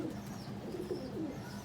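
Golden male pigeon cooing softly in a steady low murmur, a continuous close coo with faint background noise and no voices.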